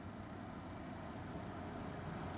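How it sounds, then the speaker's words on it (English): A neighbor's furnace running outdoors near a yard, heard as a steady low droning rumble with no breaks, fairly faint and continuous. "that noise is actually the neighbor's furnace"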